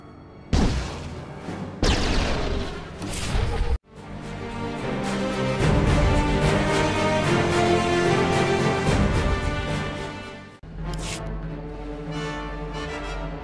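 Blaster fire in a SWTOR Trooper story fight on Balmorra: sharp booming shots at the start, then a long loud roaring barrage of sustained gunfire that cuts off, followed by more blasts.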